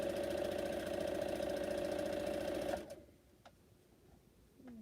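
A domestic sewing machine runs with no fabric under the needle, a fast even mechanical whir for nearly three seconds that then stops abruptly, leaving a couple of faint clicks in near silence.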